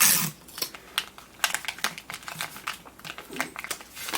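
A piece of tape folded several times into a triangle: a quick series of crisp crinkling and sticky crackling bursts, close and fairly loud, in irregular rapid succession.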